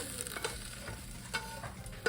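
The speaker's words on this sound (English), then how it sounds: "Got my liquid here, still boiling. I put that butter in there." Liquid boils in a pot with butter added for a holiday dinner dish, a steady low bubbling and sizzle with faint stirring clinks and no talk.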